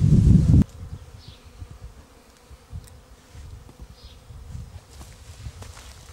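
Honeybees buzz faintly and intermittently close by, with soft wing hums drifting in and out after a brief loud thump at the start.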